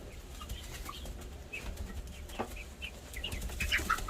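Young chickens in a coop flap their wings in quick bursts, with soft clucks and chirps scattered through a low rustling background at close range.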